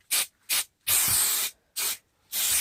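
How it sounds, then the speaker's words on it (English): Spray glue hisses from an aerosol can in five sharp bursts of varying length, close and loud, while making a bass trap, with short silences between each spray. "So now what we're going to do is just spray another piece of glue."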